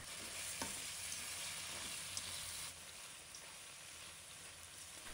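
Pork ribs stir-fried with scallions in a pan as a mixed sauce goes in, giving a steady close sizzle with a few sharp spatula clicks, easing slightly in loudness partway through; no one speaks.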